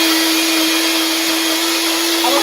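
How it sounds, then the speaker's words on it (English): A kitchen blender runs loud and steady with a constant high motor whine and broad grinding hiss, close and alone throughout. "we're going to go ahead and do this blender dance"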